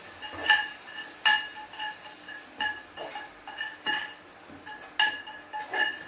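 Metal spoon clinking and scraping against a pan as ingredients are stirred and sautéed in a home kitchen, sharp clinks coming in an irregular rhythm roughly every second, close and fairly loud with no talking.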